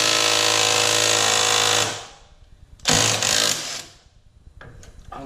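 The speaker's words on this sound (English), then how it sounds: "We got the ball joint press here." A ball joint press forcing a new ball joint into a Miata kart's suspension gives a loud, steady mechanical grinding and whirring for about two seconds, then a second shorter burst, then quieter clicking and rattling, with no talk.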